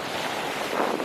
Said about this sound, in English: Wind's come back to play again now.